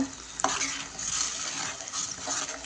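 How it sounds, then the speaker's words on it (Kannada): Onions with ginger garlic paste frying in hot oil for a potato curry, a steady close sizzle with occasional spoon scrapes and stirring clinks against the pan, no talking. "ಈಗ ಶುಂಠಿ ಬೆಳ್ಳುಳ್ಳಿ ಪೇಸ್ಟ್ ಹಾಕ್ಕೊತಾ ಇದ್ದೀನಿ ಯಾಕಂದರೆ ಈರುಳ್ಳಿ ಜೊತೆನೆ ಅದು ಚೆನ್ನಾಗಿ ಫ್ರೈ ಆಗಲಿ ಅಂತ"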